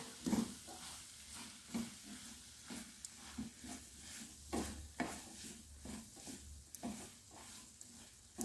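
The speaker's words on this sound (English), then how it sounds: "And we'll stir that up, get that everywhere." Black-eyed peas and scrambled eggs with turmeric stirred in a pan: a repeated scrape-and-clatter of stirring over a soft sizzle, close and quiet, with no talk.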